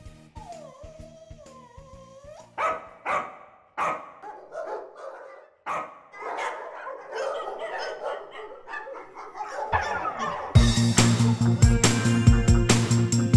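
A cartoon dog barks in a children's animation, with a run of separate yaps and woofs spaced over a soft musical background that swells louder toward the end.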